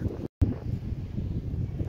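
Wind buffeting a microphone on a moving motorcycle, a steady low rumbling roar filling the clip, broken by a brief dropout near the start.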